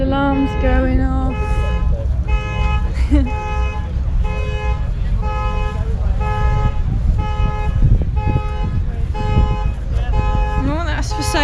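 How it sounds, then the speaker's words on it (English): A car alarm sounds at an outdoor car show in Longbridge, its repeating beeping tones running continuously under crowd noise and nearby talk. "Oh, somebody's alarm's going off."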